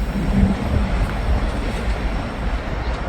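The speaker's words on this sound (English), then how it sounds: "Big old train." A big freight train rolls steadily through Hamilton at 5th and Butler Street, a loud, continuous low rumble of wheels and wagons with a brief horn-like tone near the start.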